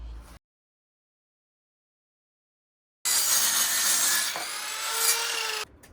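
After a few seconds of silence, a saw cuts through wood for a van kitchen frame, a close, dense rasping stroke lasting about two and a half seconds before stopping abruptly.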